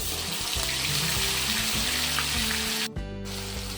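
A paste of onion, garlic, green chili and ginger frying in a kadai gives a dense, steady sizzle with a gushing, watery texture, close and continuous, with a brief clatter near the end.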